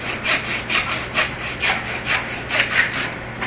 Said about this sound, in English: Saw through the bone.